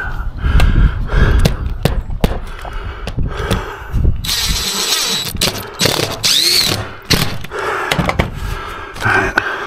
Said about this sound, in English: I don't like to do this with my drills.